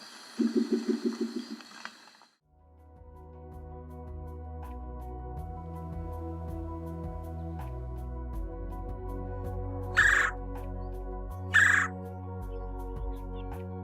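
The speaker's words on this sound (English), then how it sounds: "Spectacle owl." Faint, low, rhythmic hooting pulses of a spectacled owl carry over a dense chorus of night insects and frogs, with a couple of sharp calls breaking through.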